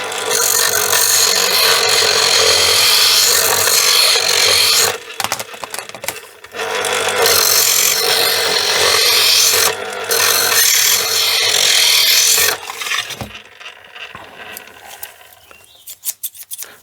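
Very old scissors ground against the abrasive sharpening wheel of a Salton electric can opener, a loud continuous rasping whir in two long passes with a short break between, then stopping and fading out.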